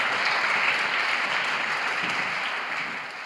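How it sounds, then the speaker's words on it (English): An audience applauds at the grand finals of the World Individual Debating and Public Speaking Championships at Hart House, University of Toronto, with sustained, dense clapping from a large crowd that stays loud and then slowly fades. "Round of applause for Eve."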